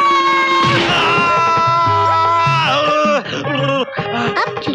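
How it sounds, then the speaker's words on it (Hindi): Loud, drawn-out screams and yells with sliding pitch come from several voices in a Hindi action film scene, overlapping and breaking into shorter shouted cries toward the end. "अब चिल्ला क्यों रहे हैं?"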